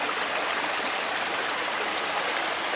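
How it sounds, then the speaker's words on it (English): Water from the Purgatoire River near Trinidad, Colorado pours over a beaver dam in a steady, close, broadband rush with no pauses or voices. "There's the dam. Just flowing over."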